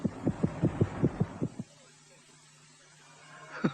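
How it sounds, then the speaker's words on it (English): A racing heartbeat sound effect in the 1971 animated film A Christmas Carol thumps in a rapid, even run of about eight beats, then cuts to a quiet low hum. "there's the sound of a racing heartbeat during those few seconds"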